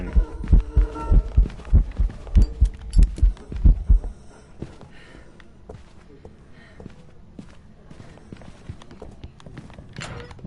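A loud, throbbing ghost heartbeat from the game Phasmophobia, deep thumps pounding in a steady rhythm for a few seconds before dropping away into quieter background noise.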